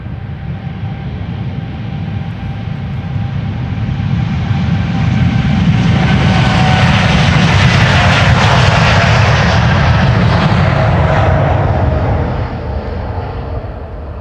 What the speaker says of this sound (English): Here we go. 787-10 Dreamliner